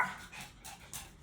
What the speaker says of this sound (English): No, stop barking.